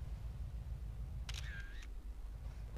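Camera shutter taking a photo of a BMW in a modded GTA game: one short mechanical click-and-whir at mid-clip, clear over a low, quiet engine rumble, with no talking.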